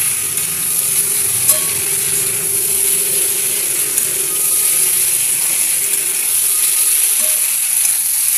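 Spicy egg pasta being stirred in a frying pan, with a loud, steady sizzle of frying overlaid by a bright high hiss and occasional scraping clicks from the spoon, close up with no talking.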